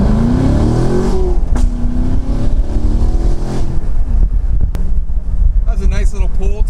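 C7 Corvette with an AWE catless X-pipe exhaust accelerating on the road, a deep engine note rising through the revs before easing off, under heavy wind rush, with someone talking over the last part.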